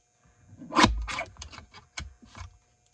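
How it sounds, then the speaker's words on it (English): Mini trimmer slicing through paper with a few short rasping strokes and scraping rubs, close and fairly quiet, no speech. "This is going to require the mini trimmer and some surgery quick."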